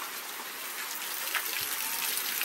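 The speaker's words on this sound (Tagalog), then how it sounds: "Lakas ng ulan." Heavy rain pours down steadily in Las Piñas, a dense, loud, continuous hiss of water hitting surfaces that fills the whole stretch without pause.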